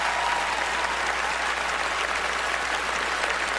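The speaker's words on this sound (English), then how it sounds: "it has nothing to say there to the cheering, adoring crowd" A large audience at the Oscars applauds and cheers, a dense, loud, sustained wash of clapping that holds steady without pause.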